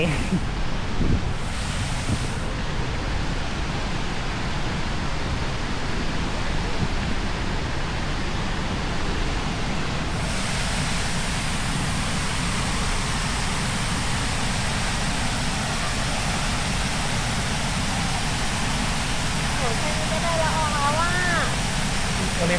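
Wachirathan waterfall at Doi Inthanon, Chiang Mai, gives a steady, loud broadband roar of falling water that holds throughout, with wind buffeting the microphone.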